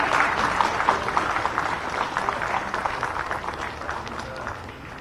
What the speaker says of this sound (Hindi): तालियां आपकी तरफ से जोरदार